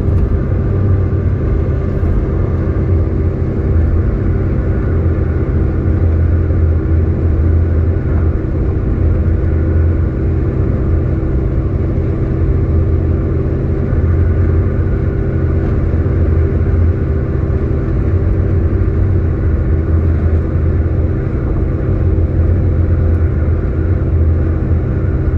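Vehicles pass along a newly built toll road in Aceh, sections 5 and 6, where a rest area is under construction. A steady, loud, low rumble of engines and tires runs unbroken from start to finish.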